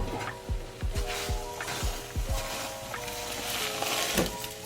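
Eggs frying in a pan on a home stove, a steady broadband sizzle with a few soft clatters of a utensil against the pan, close and moderately loud, no talking.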